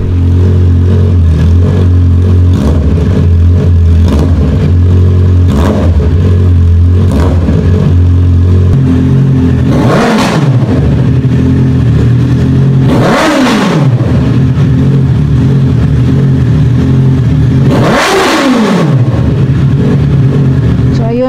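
A Honda CBR650R fitted with a 61mm shorty exhaust revs hard three times, each blip climbing sharply and falling back over a steady, loud idle rumble, heard close up.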